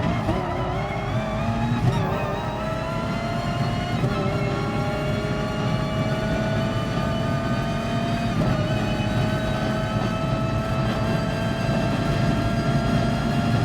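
A racing car engine in the video game Gran Turismo Sport screams at high revs, rising and dropping through gear shifts in a continuous loud drone, with no talking.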